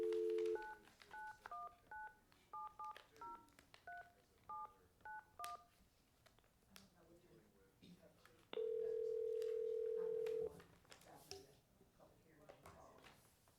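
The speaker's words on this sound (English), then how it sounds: "So let me conference in Andy and we'll work through this" A rapid series of telephone keypad tones is dialed to set up a conference call during a county commissioners' meeting, followed later by a steady tone, with quiet talking around them.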